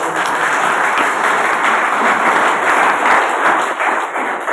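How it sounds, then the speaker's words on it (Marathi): A lecture audience breaks into loud, sustained applause, dense overlapping clapping that fills the hall evenly from start to finish. "असं दहशतयुक्त नाव घेणाऱ्या ओनली समाजसेवा ग्रुपसाठी एकदा जोरदार टाळ्या"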